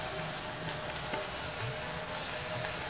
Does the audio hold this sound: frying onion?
yes